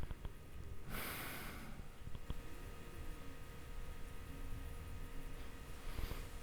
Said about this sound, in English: I breathe out